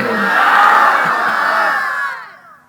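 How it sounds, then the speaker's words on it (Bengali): A large crowd at an outdoor Islamic waz mahfil in Satkhira roars Allahu Akbar in unison after the call of Naraye Takbir, one loud sustained shout of many voices that fades out near the end. "আপনাদের এই আল্লাহু আকবরের শব্দ সামিয়ানা ভেদ করে আকাশ পুড়ে আল্লাহর আরশে আজিমে পৌঁছে যাবে"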